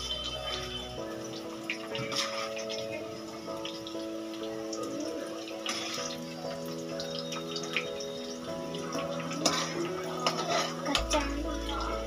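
Fried cauliflower for an aloo gobhi curry is scooped out of hot oil into a cooking pot, giving close, busy clinks and scrapes of metal utensils against cookware that run steadily throughout.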